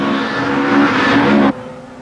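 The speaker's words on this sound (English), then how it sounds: "This is another local crew, Robin Lyons and George Miller in a Peugeot 205" A Peugeot 205 rally car on a 1987 Ulster Rally stage roars close by at high revs with a strong engine drone, then the sound drops suddenly as it passes, with no voices.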